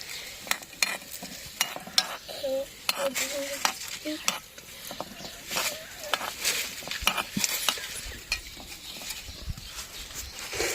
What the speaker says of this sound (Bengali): একটু নাড়ে চেড়ে নিচ্ছি, পুড়ে যেমন না যায়।